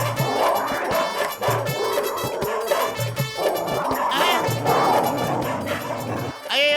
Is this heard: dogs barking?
yes